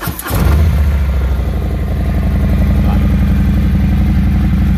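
A 2020 Harley-Davidson Low Rider S with a Vance and Hines Pro Pipe exhaust fires up and settles into a loud, close, deep idling rumble with a steady lumpy beat.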